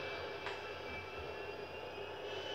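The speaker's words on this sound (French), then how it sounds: "Cet avion, malgré qu'il soit quand même assez gros, est assez maniable pour moi." A fairly large airplane flies in the video game GTA V, giving a steady, faint, even engine drone with no talk.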